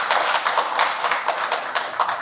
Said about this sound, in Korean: 박수 한번 좀 보내주세요.